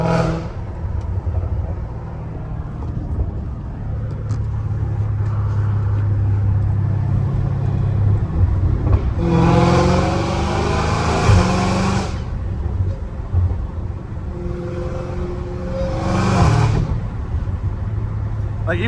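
A Dodge Hellcat Redeye's engine rumbles low and steady from inside the car, swelling into two louder revving bursts, with people talking throughout.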